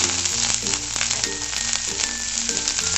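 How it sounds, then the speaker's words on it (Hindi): Cumin seeds and grated ginger hit hot oil in a pan, giving a loud, close, continuous sizzle with crackling pops and a little stirring, with no voices over it. "ऑयल के गर्म होने पर हम हमारे पैन में डालेंगे जीरा, साथ ही में हम इसमें डालेंगे पिसा कद्दूकस किया हुआ अदरक"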